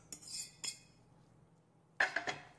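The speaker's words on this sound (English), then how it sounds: "you can add and mix all the ingredients" A utensil clinks and scrapes against a pot or bowl while rice and vegetables are mixed, two short metallic scrapes, a pause, then a burst of quick clinks, close by and with no talk.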